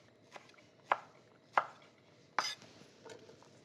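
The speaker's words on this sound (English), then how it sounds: "So let's cut it in lardoons like this." A knife chops through pancetta on a cutting board, cutting it into lardons: four or five sharp, separate thwacks, spaced irregularly and heard close up, with no voices.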